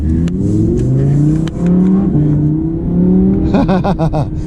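Audi R8 with all-wheel drive pulling hard in dynamic sport mode with manual gear shifts, its engine revving up loudly and close, dipping briefly at a shift, then climbing again into a rapid, pulsing high-rev surge.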